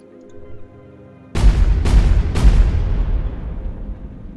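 Three heavy cannon blasts from a triple-cannon turret in the video game Space Engineers fire in quick succession, each a deep booming burst, with a long rumbling tail after the volley.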